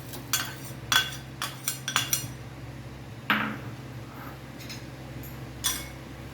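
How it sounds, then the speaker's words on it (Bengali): Broken wheat (daliya) goes into a pot of hot water for a baby's khichuri, with a series of light metallic clinks and taps of spoon against pot and bowl, close by, over a low steady hum. "প্রথম ডালিয়াটা অ্যাড করছি"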